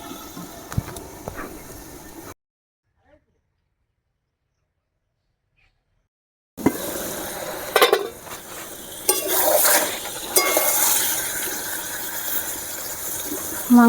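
Desi goat meat cooks in a kadai over a wood fire, with soft sizzling and the scrape and clatter of a spoon stirring against the pan, broken by a stretch of near silence before louder stirring resumes.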